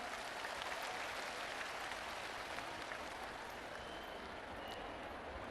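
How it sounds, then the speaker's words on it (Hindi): Loud, steady applause from a large audience fills a public government event, welcoming the Prime Minister after a bank loan cheque is handed to a group; the clapping is dense and continuous throughout, with no speech. "आइए हम सब भी जोरदार तालियों के द्वारा अभिनंदन करें।"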